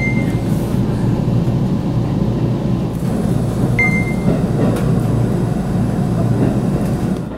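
A JR Central local train on the Iida Line picks up speed on flat track, a steady low rumble and rolling drone inside the carriage with a faint brief tone now and then.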